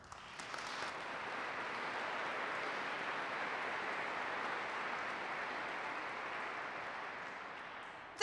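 Audience applause at a community gathering, a steady faint wash of many hands clapping that holds evenly for several seconds before a sudden louder burst at the end.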